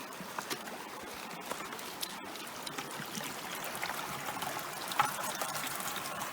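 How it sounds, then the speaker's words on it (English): Gold panning at a creek, with water trickling and sloshing steadily in the pan against the flowing stream, a soft continuous wash with faint clinks, fairly quiet and with no talking. "gonna go pan our gold at our very nice creek"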